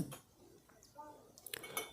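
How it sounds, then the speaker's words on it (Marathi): Biryani is ladled into a metal vessel outdoors at a farm, with faint, scattered clinks and scrapes of pots and serving utensils that grow a little busier toward the end. "आपण पाहू शकता भांड्यामध्ये बिर्याणी भरली जाते"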